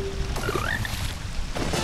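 Frogs croak in a rainy video game fishing scene, a few short warbling calls near the start over a steady wash of rain and water, with another burst toward the end.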